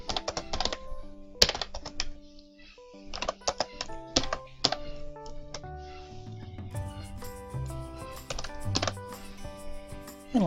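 Typing on a computer keyboard, with bursts of close, crisp key clicks broken by short pauses over a continuous tonal background.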